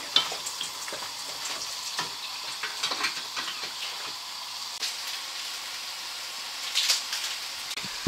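Carrots, garlic and other vegetables fry in a pan for a Bolognese risotto, making a continuous close sizzle broken by frequent scraping stirs and clatters.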